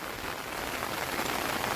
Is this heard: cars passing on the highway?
no